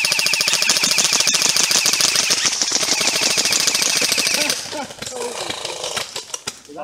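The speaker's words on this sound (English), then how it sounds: "I see gunfire coming from over there." Rapid, rattling bursts of game gunfire fire continuously, loud and dense, then break into scattered sharper shots with voices faintly underneath.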